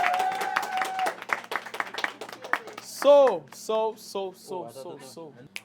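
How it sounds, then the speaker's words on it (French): An audience at a fashion elimination show claps for a contestant brought back into the competition; the short burst of clapping fades after about two seconds and speech follows. "On l'applaudit encore, on vient de le revive."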